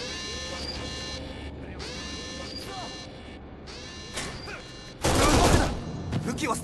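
Gunfire in Kane & Lynch: Dead Men during a prison breakout, where a loud, dense burst of shots erupts near the end after a stretch of talking voices.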